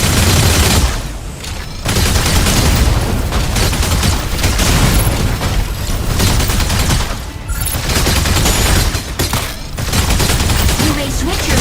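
Gauss cannons and heavy weapons fire in a mech battle video game, with dense bursts of rapid, booming shots and short pauses between volleys, loud and continuous over roughly twelve seconds.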